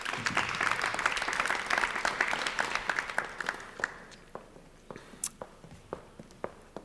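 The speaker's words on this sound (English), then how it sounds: "Please applause for Erik Kessels," An audience applauds guests walking onto the stage at a cultural debate evening: warm, full clapping that thins out into scattered claps and footsteps, fairly close and without talk.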